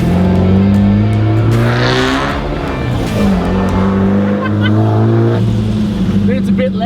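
Toyota RA40 with a swapped 18RG twin-cam engine on its first drive, loud and close, revving and pulling through the gears, with the engine note rising and falling.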